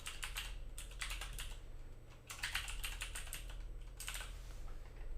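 Fingers type on a computer keyboard in three quick bursts of close, crisp key clicks, separated by brief pauses, with a faint steady hum beneath and no voices.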